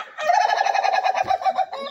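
Chickens clucking on a poultry and duck farm, with a rooster's crow running through a loud, close, continuous call of nearly two seconds.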